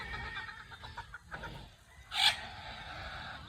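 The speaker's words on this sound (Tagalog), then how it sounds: "Ayan yung mga pullets natin dito." Young pullet chickens cluck softly and repeatedly at close range while being fed scattered grain, with one louder, sharper squawk standing out in the middle.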